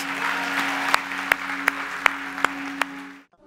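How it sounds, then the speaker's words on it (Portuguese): A church congregation applauds in a steady wash of clapping, with several sharper individual claps standing out, before the sound cuts off abruptly. "Aplauda o Senhor Jesus."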